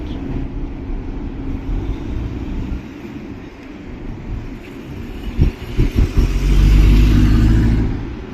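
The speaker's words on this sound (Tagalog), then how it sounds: "Daming sasakyan." Street traffic with many cars passing on a city road, a steady rumble that builds to a loud, close vehicle pass with engine growl near the end.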